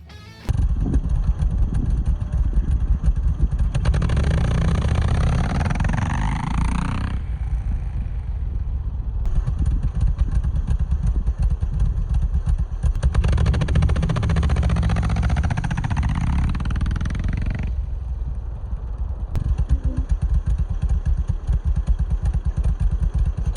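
Kawasaki KLX 110 dirt bike with an automatic clutch fitted with BBR heavy-duty springs, heard in two takeoff runs: a steady idle swells into loud revving pulls, each lasting a few seconds before easing back down, close to the microphone with no talk.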